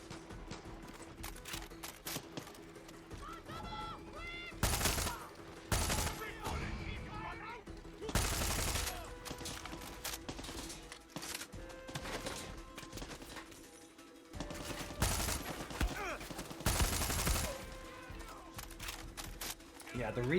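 Bursts of gunfire from the video game Far Cry 6 crack out in several separate volleys amid continuous game noise, with a player talking over much of it.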